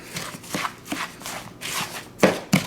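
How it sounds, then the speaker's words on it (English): Ground meat with an egg, salt, pepper and basil worked with a wooden spoon in a bowl, giving close, uneven squelching thumps and scrapes in irregular strokes, with no talking. "we take our old friend, Mr. Wooden Spoon, and we mix it up"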